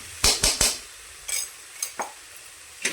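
A metal spoon scrapes and clinks in a pan while ginger-garlic paste and green chillies are stirred, with a quick cluster of three strokes followed by several sparser, softer knocks and scrapes and no voice.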